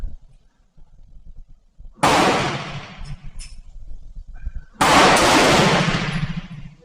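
A VZ52 rifle being test fired gives two loud, close blasts a few seconds apart, each with a rough, lingering tail.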